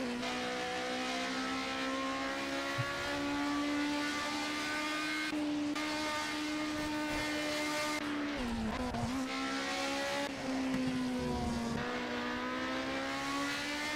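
A Ford Capri historic GT race car in Project Cars roars past with a steady, loud engine drone whose pitch sags and recovers midway as the car overtakes, with no talking.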